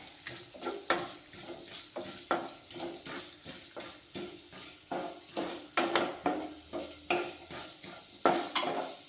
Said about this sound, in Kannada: 1 ಸೆಕೆಂಡು ಇವು ಗೋಲ್ಡನ್ ಕಲರ್ ಬರೋವರೆಗೂ ಫ್ರೈ ಆಗಲಿ